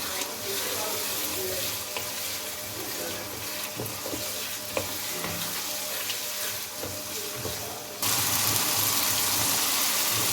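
Mixed vegetable masala with tomatoes and peas frying in a pan, a continuous close sizzle with occasional stirring clinks and scrapes, growing slightly louder near the end, no talking.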